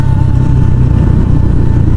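Motorcycle engine running under load while riding, a loud, steady low rumble with throbbing engine pulses, heavy and close throughout.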